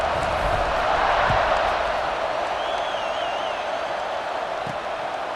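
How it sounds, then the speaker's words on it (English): Stadium crowd in EA Sports College Football 26 after a score: a steady, broad murmur of many voices with scattered claps and a faint whistle, moderately loud and continuous. "this crowd is buzzing after that last score"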